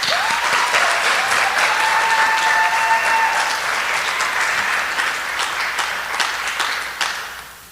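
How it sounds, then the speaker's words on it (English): Loud, steady applause from an audience for princess candidates at the 2021 Daffodil Princess selection ceremony, clapping sustained throughout and easing slightly toward the end. "One more time, please give a round of applause for our princess candidates."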